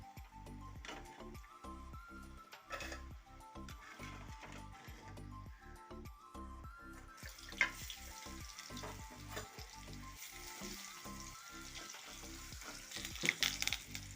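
Jackfruit rind chips fry in hot oil with curry leaves, giving a constant bubbling sizzle under rhythmic scraping and tapping from a spoon in the pan. The sizzle turns brighter partway through.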